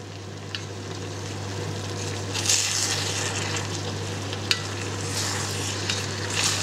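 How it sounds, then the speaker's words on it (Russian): Stewed cabbage with meat being stirred in a pot for Polish bigos, giving a soft continuous sizzle and bubbling with occasional scraping stir sounds and a small clack, over a steady low hum. "Перемешиваем ее с мяском."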